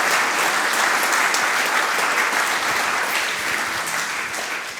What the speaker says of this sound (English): to give applause for is the organizers.